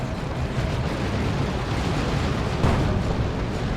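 Boom shot explosion in the Dawn of War 2 strategy game, a dense continuous rumble of blasts and battle noise with a sharper burst near the end, no talking.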